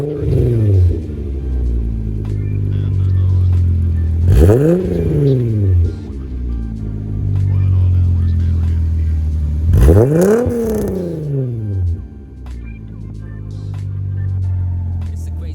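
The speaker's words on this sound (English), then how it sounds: "I'm gonna start the car, make sure the car is not misfiring with the wires" A VW Mk3 GTI engine idles nearby with a steady low rumble, broken by two sharp revs that climb and fall back, each flaring loudly and then settling into idle.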